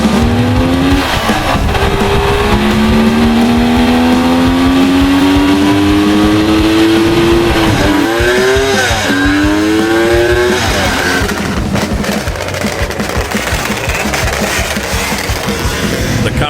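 Kawasaki H2 750 two-stroke motorcycle engine revving loud and close, its pitch climbing through repeated rising sweeps with brief drops between gear changes, steady and continuous throughout with no talk.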